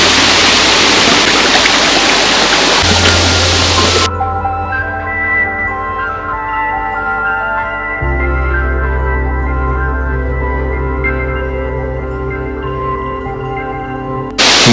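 A river with waterfalls in dense forest gives a loud, close rushing roar for about four seconds before it cuts away to steady musical tones.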